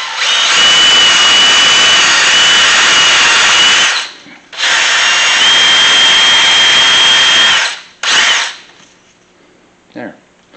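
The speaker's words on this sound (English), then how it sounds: "the easy way to clean the valves is just to put it on the end of a drill and then use a Scotch-Brite pad" Power drill spinning a Scotch-Brite pad against an engine valve to clean it: two long, loud, close whirring runs of about four seconds each, then a short burst and a faint tap near the end.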